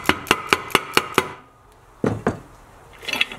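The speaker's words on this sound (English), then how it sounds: "When it's hot, two taps of the hammer, it falls straight in." Metal hammer taps on a heated part being driven into the rear-end case of a Honda S600 chain-drive car: a quick run of six sharp close strikes, a pause, then two more hits, with no voices.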